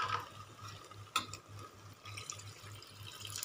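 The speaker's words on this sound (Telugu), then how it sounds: "ఇప్పుడు కొద్దిగా వాటర్ యాడ్ చేస్తాము." Masala water poured into a pan of simmering egg curry, a soft continuous trickle and splash with a faint rhythmic low pulse beneath, quiet and close, no talking.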